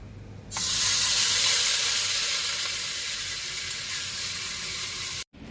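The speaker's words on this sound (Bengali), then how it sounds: "ঘিটা গরম হয়ে গেছে এবার কিন্তু এই গাজর বাটা আর কেশরটা যে ভিজিয়ে রেখেছিলাম একই সঙ্গে এটা আবার দিয়ে দিচ্ছি" Carrot paste and soaked saffron dropped into hot ghee, setting off a loud, sudden sizzle that holds steady and slowly eases for several seconds before cutting off abruptly.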